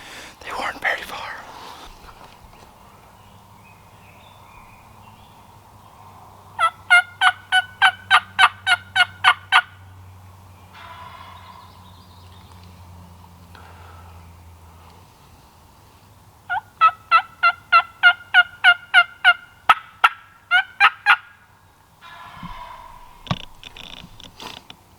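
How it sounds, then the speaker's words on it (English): Wild turkeys, likely jakes, gobble in two rapid rattling bursts some distance off during a turkey hunt in Western New York, with a soft whispering voice in between. "By the sound of the gobble"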